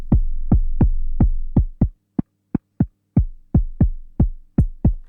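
A synthesized kick drum from Ableton Drift thumps about a dozen times in a steady rhythm, each hit a deep booming punch with a fast decay, some ringing longer than others, heard alone.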